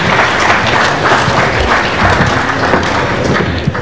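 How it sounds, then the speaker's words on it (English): An audience at a live-streamed aviation conference in Nigeria claps in a sustained, dense round of applause that stays loud and steady throughout, with no speech over it. "A warm round of applause for them again,"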